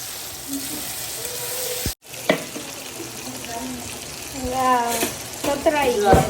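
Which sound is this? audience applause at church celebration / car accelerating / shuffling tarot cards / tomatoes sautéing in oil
tomatoes sautéing in oil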